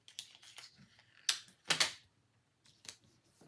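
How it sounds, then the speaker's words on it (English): Tape being pulled and pressed down to join paper sewing-pattern pieces for a twilly scarf: several short, close crinkly rips and taps, with two louder tearing strips in the middle and quiet gaps between. "we're gonna tape our pattern piece together"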